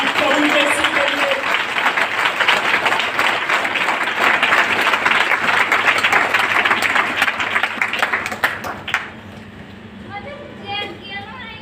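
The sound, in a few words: audience applauding for Jesus at a church service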